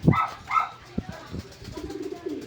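Pigeons at a backyard loft with young birds landing: soft cooing and wing flutters close by, a few light thumps, and a dog barking faintly in the background.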